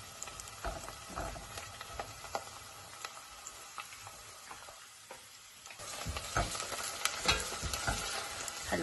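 Ginger and spices sizzle and crackle steadily in a hot pan while being stirred, with frequent scraping clicks of the utensil against the pan, close and fairly quiet, no talking.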